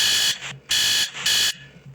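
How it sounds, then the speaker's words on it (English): Scheduling alarms go off in three loud, shrill electronic bursts separated by short gaps, with a fainter tone trailing at the end. "Sorry, I'm trying to stay on schedule, so I got all these alarms."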